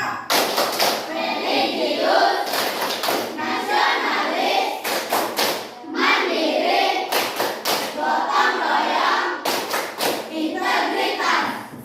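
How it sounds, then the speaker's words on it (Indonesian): A primary school class stands and performs the rhythmic 'tepuk PPK' clapping chant, sharp bursts of hand claps in repeated patterns alternating with children's voices chanting together in a classroom. "kita akan melakukan tepuk dan salam PPK"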